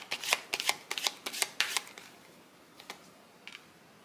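Tarot cards shuffled by hand during a love reading, giving a quick run of crisp, papery riffle bursts that fade to a few scattered flicks, close and clear with no talking.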